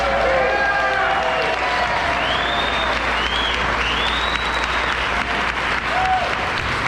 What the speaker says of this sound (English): She deserves a big round of applause for this.